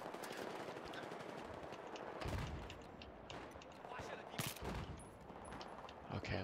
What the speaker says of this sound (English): the AK is not very good on long range